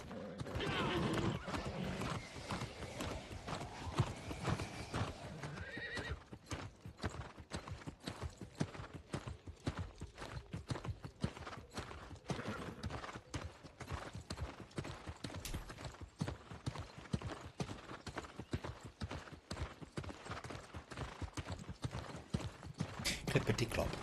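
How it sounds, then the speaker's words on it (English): Horse hooves clip-clop in a steady, continuous rhythm of close, sharp knocks, with a whinny near the start and voices talking over much of it. "Clippity clop, clippity clop, clippity clippity clippity clop"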